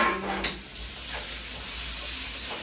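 Oil sizzles steadily in a pan as potatoes fry, close up, with a brief clink of utensils near the start and no voices.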